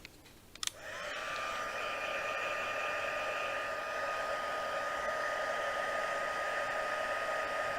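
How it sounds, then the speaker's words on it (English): A craft heat tool blows hot air onto a stamp, clicking on and then roaring as a steady, close, breathy whoosh with a faint whine, continuing unbroken and alone. "we're just going to get the heat tool and just heat this up"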